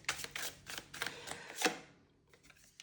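Tarot cards shuffled by hand up close, a string of quick soft riffling slaps and flicks in an uneven rhythm, fading into quieter taps.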